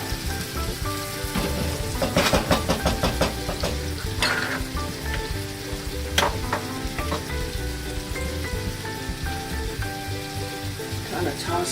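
Noodles are tossed in a frying pan with lemon chicken and parmesan: sizzling and frying throughout, with scraping and clattering stirs from a utensil in irregular bursts, and a voice talking faintly underneath.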